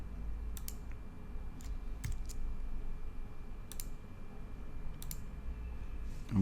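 A computer mouse clicks in sharp, isolated pairs and singles, several times at irregular intervals, close and clear over a low steady room hum, with no talking.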